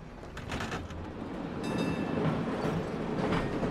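A tram rolls along rails in the Red Dead Redemption 2 video game, a steady continuous rumble with a rhythmic rattle that swells slightly toward the end, with no voices.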